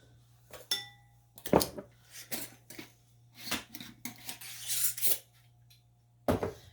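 A spoon scrapes and clinks around a pot while stirring ham corn chili with corn, irregular rasping strokes and metallic knocks close up over a steady low hum.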